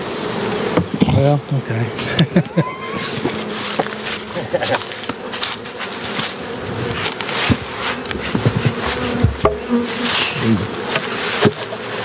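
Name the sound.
bees buzzing during spring beehive inspection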